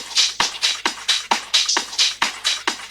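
A bright, hissy percussion filler loop from a minimal deep house track, with shaker-like hits repeating in a quick, even groove at moderate level.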